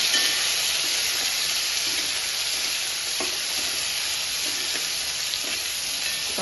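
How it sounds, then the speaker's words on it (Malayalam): Onion, tomato, green chilies and garlic sautéing in a pan for a fish curry, a steady close sizzle and hiss with occasional stirring clicks, no voices. "ഉള്ളിയും തക്കാളിയും പച്ചമുളക് വെളുത്തുള്ളി എല്ലാം കൂടി ഒന്ന് നന്നായി ഒന്ന് വഴച്ച് കഴിഞ്ഞാൽ ഒന്ന് വഴന്ന് വരട്ടെ നല്ലോണം"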